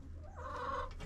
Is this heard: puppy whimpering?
no